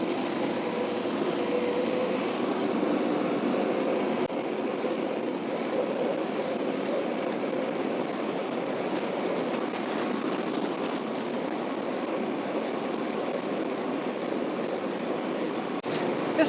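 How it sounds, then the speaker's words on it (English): A Summit TX25 tractor tills seeded soil and bogs down under the load, giving a loud, steady engine-and-tiller drone that runs unbroken and close, with no talking. "It's tilling up pretty good, but I was surprised at how much is bogging down the tractor."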